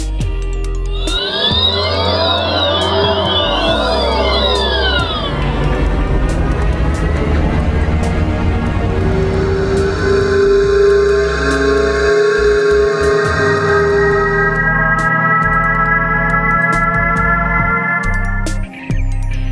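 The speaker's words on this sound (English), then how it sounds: "Are you familiar with the acoustic alert for pedestrians?" A series of synthetic electric car pedestrian warning tones, whooshing sweeps and humming drones that rise and shift in pitch, loud and close, one after another.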